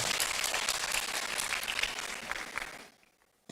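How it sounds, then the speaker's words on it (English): Audience applause for a royal majesty at a Supreme Court 150th anniversary celebration, a dense burst of clapping for under three seconds, moderately distant, that stops abruptly into quiet. "A round of applause for His Royal Majesty."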